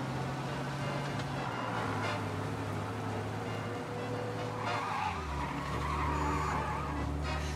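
A car in the video game Mafia drives with a steady engine drone while its tires squeal and skid, the engine pitch shifting as it goes.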